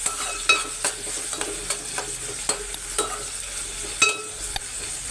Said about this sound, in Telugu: టమాటాలు కూడా వేసి బాగా ఫ్రై చేద్దామండి